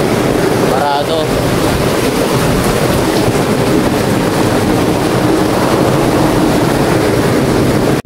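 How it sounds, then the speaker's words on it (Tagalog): Sea waves wash onto a beach with a constant loud roar of surf, heavily mixed with wind buffeting the microphone, with no voices. "Dito tayo sa tabing dagat."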